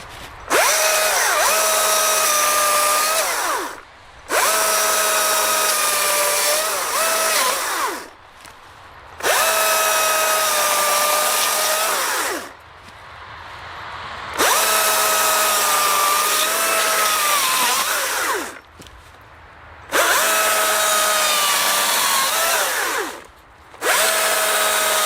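A Stihl MSA 220 C-B battery chainsaw whirs in repeated bursts of a few seconds each, spinning up to a steady high whine and then cutting off into near silence, about six times, close and loud with no talking.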